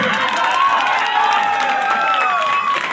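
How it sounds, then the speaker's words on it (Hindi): A large crowd at a Bhojpuri wedding event claps and cheers continuously, a dense, loud wash of applause with some shouting mixed in throughout. "एक बार जोरदार ताली चारों तरफ से।"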